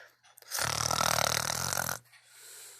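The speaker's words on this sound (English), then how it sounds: "Stop snoring, Bernard, said the alligator." A cartoon alligator named Bernard snores loudly in a storybook tale, one long rasping snore lasting over a second, close and alone.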